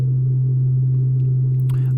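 A radio receiver tuned to the Canadian Meteor Orbit Radar puts out a sine-wave carrier: a steady, loud, unbroken low tone held throughout over faint background hiss.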